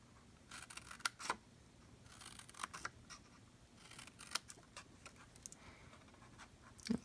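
Scissors snipping paper up to a score line on a paper treat holder, several short crisp snips scattered among soft handling rustle, close and fairly quiet.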